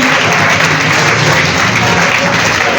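Steady, loud audience applause for the jury members at a youth reading contest during a children's book fair in Libreville, continuous dense clapping with no pauses.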